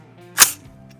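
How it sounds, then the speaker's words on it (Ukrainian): A single sharp shot from a .223 AR-15 rifle cracks out, brief and loud, with quiet surroundings before and after. ".223-го тут просто немає. Але для наочності стріляємо."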